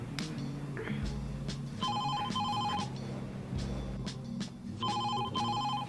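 A telephone rings in two-burst electronic trills repeating about every three seconds, heard at moderate distance over a low background murmur.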